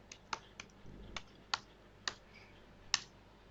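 Keys on a computer keyboard are tapped in a short, sparse sequence of crisp, close clicks, about seven strokes spaced irregularly over a quiet background.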